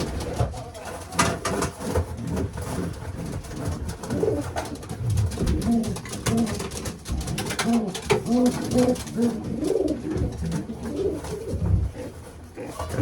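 Racing pigeons coo in a loft, soft throaty coos repeating steadily over a constant background hum, with a few shuffling sounds mixed in.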